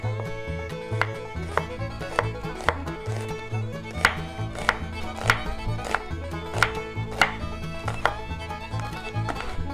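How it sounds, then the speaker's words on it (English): A knife chops onion on a cutting board in a quick, even rhythm of close, crisp thuds, roughly two per second, with a low hum running underneath. "And get our onion cut up."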